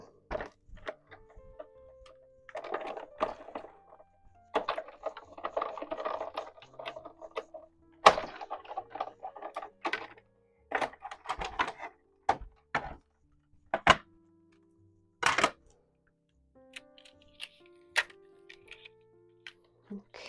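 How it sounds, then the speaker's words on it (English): Paper and a taped-down die are cranked through a die-cutting machine for cardmaking, producing an irregular series of close clicks, rattles and grinding bursts with quiet pauses between them. "just position the die, tape it down, and run it through"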